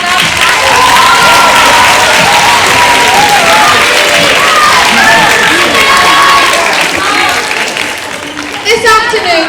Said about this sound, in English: Can you just clap them off stage,